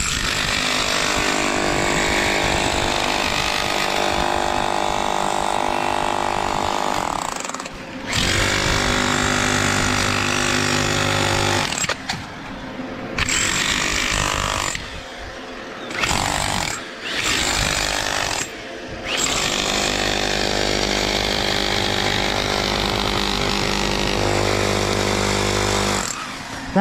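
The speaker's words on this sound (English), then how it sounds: "That noise you hear is a billy, jackhammer pick hitting a billy" A jackhammer pick hammers against a billy in an underground sapphire mine, a loud continuous rattling drone broken by several brief pauses.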